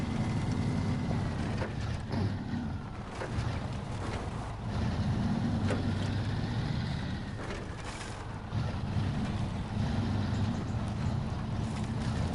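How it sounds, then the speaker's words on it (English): A throaty V8 truck engine in the SnowRunner video game rumbles low and steady at moderate volume, revving and easing in swells across the stretch, with mechanical clunks and no voices. "it sounds like a throaty V8 in there"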